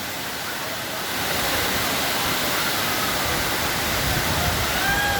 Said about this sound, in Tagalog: habang may lagastas ng tubig sa baba.